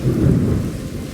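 Hail falling during a thunderstorm as a plague on Egypt: a loud, deep rolling rumble of thunder over dense rain-like patter, filling the whole short moment with no voices.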